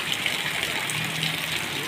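Heavy downpour pours steadily over a flooded town square and market street, a continuous loud broadband rush of rain and running water with no break.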